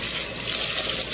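Cold tap water runs steadily into a sink while cooked Vietnamese rice vermicelli noodles are drained and rinsed, a continuous close hiss and splash with no talking.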